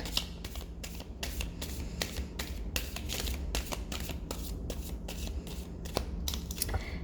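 A deck of animal cards being shuffled, with rapid repeated riffling bursts of card flicks in a steady rhythm, close and fairly loud throughout, with no talking.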